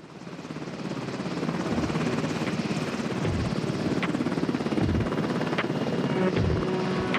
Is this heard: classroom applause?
no